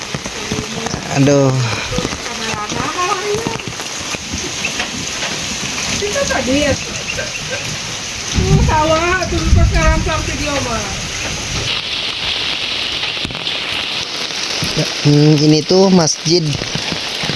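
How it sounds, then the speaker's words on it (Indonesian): Light rain patters steadily in a remote, foggy village near a mosque, a soft continuous hiss under someone speaking intermittently throughout. "Hujan ngarincik, tarik selimut cocok ini teman-teman ya."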